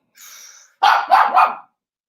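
A dog barks three times in quick succession, loud and close, after a brief higher whine or yelp.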